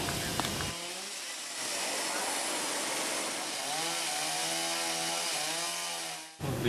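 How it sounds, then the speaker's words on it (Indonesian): A chainsaw runs steadily as emergency responders cut up a fallen tree, its engine whine rising and falling in pitch through the cut, loud and close, with a brief break near the end. "Petugas dari tim reaksi cepat BPBD Kabupaten Bantul mengevakuasi pohon dengan menggunakan gergaji mesin"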